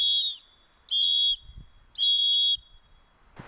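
Three loud, high-pitched whistle blasts, each about half a second long and evenly spaced, followed by a brief thump.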